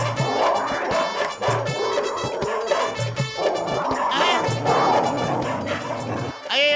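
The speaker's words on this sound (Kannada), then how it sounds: "ಇದೇನೋ ನಾಯಿಗಳೆಲ್ಲ ಹಿಂಗ್ ಓಡ್ಕೊಂಡ್ ಬರ್ತಾ ಇದಾವೆ" Cartoon dogs in a Motu Patlu episode bark and yip in a chaotic pack, loud and close over a busy music score, with snippets of voices mixed in.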